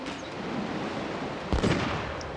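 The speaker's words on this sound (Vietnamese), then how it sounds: "Viên bắn súng của chúng ta sẽ bắn." Gunners fire during a naval engagement in Total War Shogun 2: one muffled bang breaks through a steady wash of sea and battle ambience, then fades back into the background roar.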